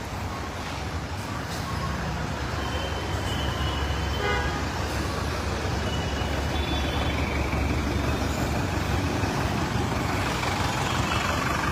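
Horns toot repeatedly over a constant roar of congested road traffic, with idling trucks and private company buses packed bumper to bumper on a road in Kopri, steady and loud throughout.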